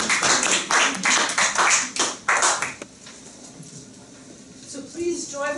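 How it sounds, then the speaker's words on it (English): An audience at a Toastmasters speech contest applauds with a burst of clapping, loud and close for about three seconds before cutting off, followed by quiet room tone and a faint voice. "please join me in another round of applause for our contestants"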